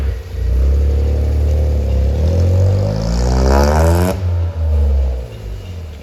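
A modified car engine revs up hard, its roar climbing in pitch, then drops back to a throaty idle, close and loud with a rattling edge and no talking.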